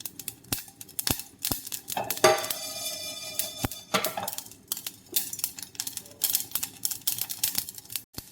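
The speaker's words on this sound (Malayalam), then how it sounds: "ഇളക്കി വറുത്തെടുക്കാം" Mustard seeds and fenugreek roasting in a pan while being stirred: sharp, irregular clicks and pops of the seeds spread across the clip, with a brief scraping rattle of the spoon against the pan, fairly quiet overall.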